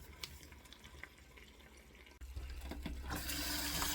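Blueberries rinsed under a running kitchen tap while making jam: water splashes and trickles softly at first, then the flow turns full and steady, a close rushing stream with no speech.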